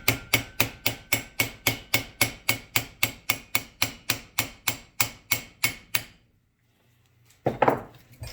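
A brass hammer taps a limited-slip differential insert in a quick, even series of about twenty sharp ringing metal strikes, then stops; a brief clunk follows after a pause.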